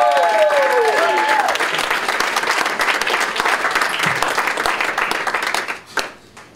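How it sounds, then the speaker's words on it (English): An audience at Gotham Comedy Club claps and applauds comedian Cormac O'Brien, dense loud applause that fades toward the end, with a voice briefly over the start. "Please start clapping right now, Mr. Cormac."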